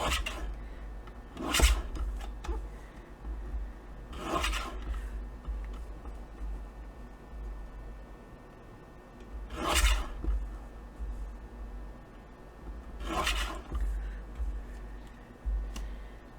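Scissors trim a small piece of patterned paper in a few separate rasping snips, quiet and close, spaced out over a faint background hum.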